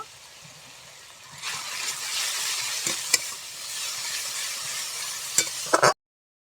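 Brinjal frying in a pan as turmeric and Kashmiri red chili powder go in, a steady close sizzle with occasional sharp clinks and scrapes of a spoon, cutting off abruptly near the end.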